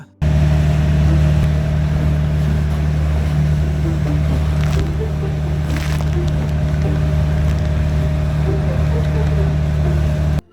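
A steady motorboat engine drones continuously, loud and close, with a low constant hum and faint wash of water underneath, on a boat at sea among the Burias islands.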